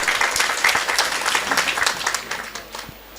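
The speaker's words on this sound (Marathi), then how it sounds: "आपण एक जोरदार टाळ्या या ठिकाणी होऊन जाऊ द्यात" An audience at a public talk breaks into hearty applause, dense clapping from many hands that runs steadily and then tapers off near the end.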